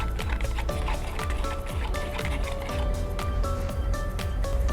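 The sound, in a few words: stirring diluted cement modifier waterproofing primer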